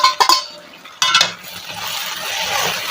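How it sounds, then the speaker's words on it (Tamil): Chopped tomatoes tumble into a pan of fried onions with a couple of sharp clinks and clatters, then a soft, steady sizzle of frying settles in close by. "இந்த ஸ்டேஜில் நம்ம எடுத்து கட் பண்ணி வச்சுருக்கிற தக்காளியை போட்டுடலாம்"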